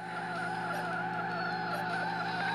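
A rally car in the racing game Rally Fury brakes and skids, producing a steady, sustained tire squeal with a constant engine drone underneath, moderately quiet and unbroken for a couple of seconds.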